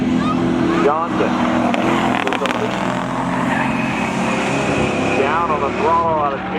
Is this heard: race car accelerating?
yes